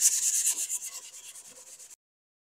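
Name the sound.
sanding filler on styrofoam niche with 220 sandpaper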